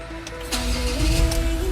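A diesel Ford Everest automatic 4x4 Titanium being started: a brief cranking burst settles into a steady, low idle rumble with a faint whine, close and fairly loud, with no talk.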